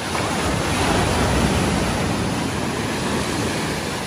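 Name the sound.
strong ocean waves at the shore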